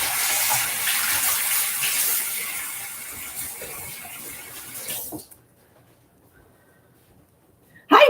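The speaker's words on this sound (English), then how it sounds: "I need to wash my hands because I'm going to stick my hands in my salt bowl." A kitchen tap runs steadily as hands are washed beneath it, a loud broadband hiss that stops abruptly, leaving near silence before a short clatter at the end.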